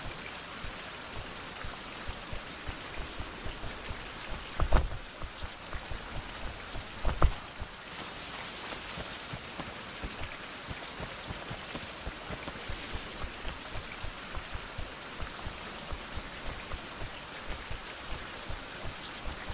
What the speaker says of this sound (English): Somebody turn off the rain, please.